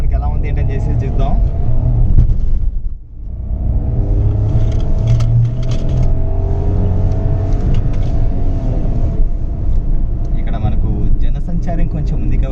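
A Renault Kiger being driven on an off-road test drive, its engine giving a steady low rumble close by throughout, with a person talking over it the whole time.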